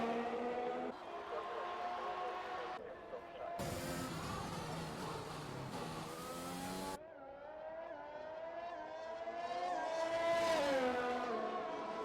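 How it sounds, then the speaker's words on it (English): Race cars in a sim racing league event on a Russian circuit, engines droning and shifting pitch continuously as cars pass and rev, with a commentator talking over them throughout. "Might be a blessing in disguise for the likes of Dras, who now needs to pit for their new front wing"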